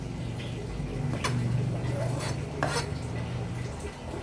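Carrots and onions stirred together in a cooking pot for crispy pata, a quiet, close scraping and clinking of a spoon against metal over a low hum.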